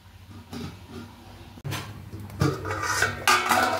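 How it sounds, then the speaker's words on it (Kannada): A plate set over a cooker pot of chicken dum biryani, giving close metallic clatters and scrapes, with a sharper clank about midway and a few more knocks after, no voices. "ಇವಾಗ ನಾನು ಇದು ಕುಕ್ಕರ್ ಮುಚ್ತಾ ಇಲ್ಲ, ಹಾಗೇನೋ ಒಂದು ಪ್ಲೇಟ್ನ ಮುಚ್ಕೊಳ್ತಾ ಇದ್ದೀನಿ"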